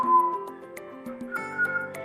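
Someone whistles a wandering tune nearby during a chess game, the notes sliding and held, moderately quiet with faint background clicks.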